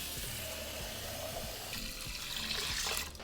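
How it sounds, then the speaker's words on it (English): Two cups of water pour steadily into an Instant Pot, a continuous splashing rush that swells louder toward the end, with no talking. "now we're gonna do 2 cups of water"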